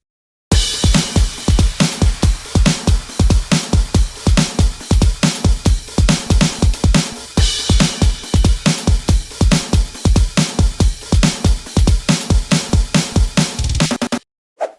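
A J-pop drum pattern programmed in FL Studio, with crashes and downsweepers, plays as a fast, steady, loud loop of hits for the full length before stopping abruptly; no voices.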